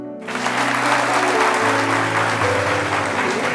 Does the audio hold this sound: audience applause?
yes